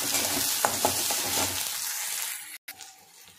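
Chopped medium-sized onion with curry leaves frying in hot oil, a steady close sizzle with a few faint crackles that fades out after about two seconds.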